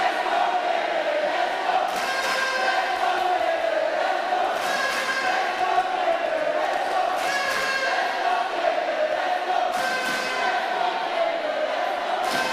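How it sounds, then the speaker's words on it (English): A large crowd cheers and shouts loudly and continuously at a women's university basketball game, with rising swells of yelling every couple of seconds. "You are hearing the crowd, the KFL contingent, definitely cheering loudly for their team."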